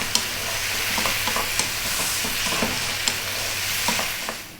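Penne pasta with vegetables tossed in a hot pan, a loud continuous sizzle broken by regular clacks and scrapes of stirring, close and without talk.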